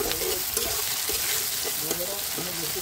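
Onion and green chilli sizzle and fry in hot oil in a pan, a steady crackling hiss with occasional stirring scrapes, close and moderately loud.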